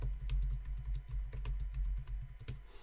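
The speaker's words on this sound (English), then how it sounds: "you can hit the delete key on your keyboard" Rapid typing on a computer keyboard, a steady patter of close key clicks with no talking.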